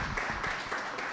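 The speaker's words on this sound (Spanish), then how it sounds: "Un aplauso a Camilo, por favor." Audience at an Open Finance workshop applauding a CEO before his talk, a short steady patter of clapping from a modest crowd, moderately quiet and even.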